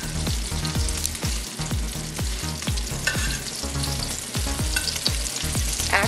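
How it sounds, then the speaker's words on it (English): Homemade meatballs frying in a hot pan give a loud, continuous sizzle with crackling pops and occasional stirring knocks, with no talking. "Actually frying up homemade meatballs."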